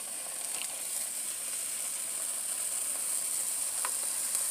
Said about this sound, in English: And then what I do when I'm frying bologna,